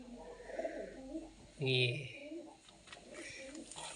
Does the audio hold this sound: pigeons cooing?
yes